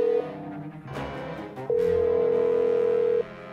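Mobile phone ringback tone on a call, a steady electronic beep that sounds briefly, then a long tone after a short gap with a faint clatter between them.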